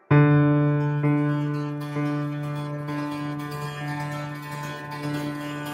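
A single piano note morphed in the Soundpaint Beautiful Noises instrument rings out as a sustained metallic, alien tone, starting with a sharp attack and holding steady with slight pulsing swells.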